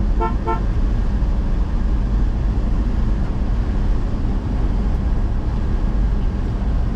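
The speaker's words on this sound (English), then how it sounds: "Got the horn." A 1972 Ford F-250 Ranger XLT pickup's horn toots briefly at the start, two quick harmonic blasts, then only steady low engine rumble carries on.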